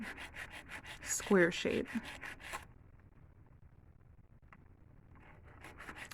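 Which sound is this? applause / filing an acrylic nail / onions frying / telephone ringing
filing an acrylic nail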